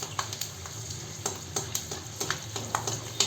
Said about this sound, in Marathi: त्याच्याबरोबरच खोबरं पण तळून घेते सुक्क खोबरं आहे ते